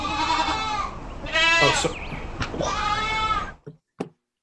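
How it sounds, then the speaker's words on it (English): Goats on a farm bleat in several loud, wavering calls close by, followed by a couple of short clicks, with a brief spoken word. "I heard goats in a farm."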